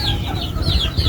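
Chickens cluck and squawk inside a backyard coop, several birds calling over one another at close range, loud and continuous with no talk.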